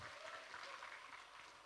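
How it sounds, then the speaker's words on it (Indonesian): Brief applause from participants in an early-morning fitness class after a set of squats, a soft patter of clapping hands heard faintly for under two seconds. "Tepuk tangan dong."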